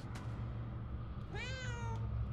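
A cat meows once in the video game Murdered: Soul Suspect, a clear rising-and-falling cry heard alone over a steady low game ambience.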